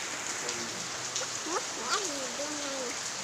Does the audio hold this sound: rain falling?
yes